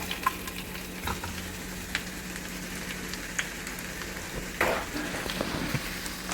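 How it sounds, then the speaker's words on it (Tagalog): Garlic sautes in a pan for a honey garlic pork chop sauce, with a steady close sizzle and a few sharp clicks and scrapes from stirring. "we have to saute the garlic"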